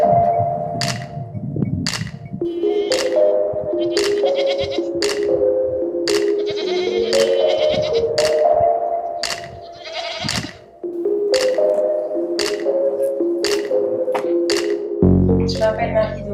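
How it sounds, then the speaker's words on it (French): Dairy goats bleat repeatedly on a small farm making cheese from goat milk, the cries fairly close and recurring throughout, mixed with background music and some voice. "J'ai 17 chèvres que je traite"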